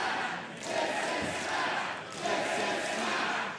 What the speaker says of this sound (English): the crowd chanting approval here for all four men involved